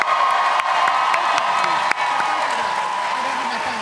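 A crowd at a live Dungeons & Dragons Baldur's Gate event claps steadily in a dense, sustained wave of applause, with scattered cheers throughout.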